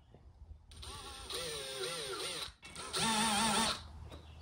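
A power drill spot-drills holes in the rear hatch of a 2022-2024 Honda Civic hatchback for a ducktail spoiler, two close whirring runs of about a second each with a brief pause between, rising in pitch as it bites.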